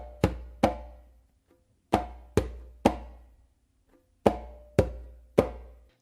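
Conga tumbao strokes played by hand, palm slaps alternating with bass tones, in three sharp groups of two or three hits with short gaps, close and dry, alone without talk.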